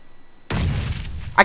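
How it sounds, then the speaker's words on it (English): A grenade bursting in a multiplayer battle-royale shooter game, a sudden loud boom that rolls on for about a second, followed by a sharp crack, with a faint voice underneath. "I killed him with a grenade!"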